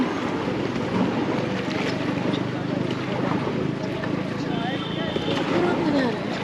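A boat moving across open water, with a constant rushing churn and wind buffeting the microphone, while people talk over it throughout.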